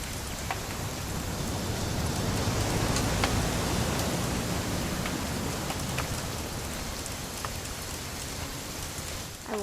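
Steady rain pours throughout a scene in the video game What Remains of Edith Finch, a dense, even hiss of drops on surfaces with occasional sharper drips, heard alone without voices.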